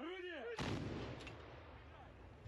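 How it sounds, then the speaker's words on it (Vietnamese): A D-30 122mm howitzer fires one loud, close artillery blast that cuts off a rising whine, then rolls away in a long fading rumble. "Hơn 60 quốc gia vẫn sử dụng pháo D30 122mm."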